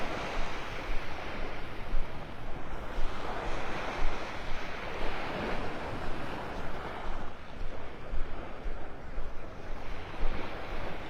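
Surf rolls in steady washes while wind buffets the microphone on Pelican Bay beach in North Naples, Florida, a continuous loud roar with no voices.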